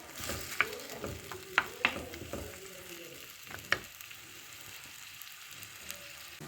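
Tomato and pepper mixture frying in olive oil, a close, gentle sizzle broken by several sharp metallic taps and stirring scrapes, with no voices over it.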